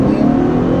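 A 2013 Lexus RX 350 SUV revs loud and steady as it launches hard, its engine note a thick continuous drone heard close up from inside the cabin.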